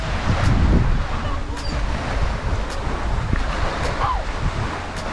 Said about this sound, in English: this is the beautiful beach